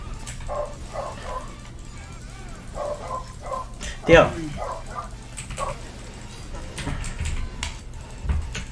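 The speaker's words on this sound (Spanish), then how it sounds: "Es que me están poniendo nervios los perros, tío." Several dogs bark in short repeated bursts of bow-wows and yips at moderate distance, with a whimper in between, while someone talks over them in Spanish during a game session.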